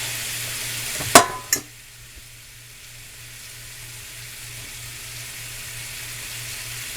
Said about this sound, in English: Just gonna brown them off real good.